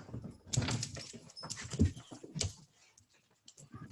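Dogs let out at a wine club gathering pant, snuffle and whimper nearby in uneven bursts, fairly quiet, with the pace dropping off toward the end.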